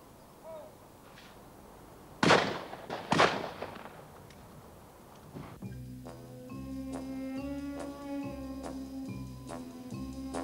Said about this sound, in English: That gunshot noise in the background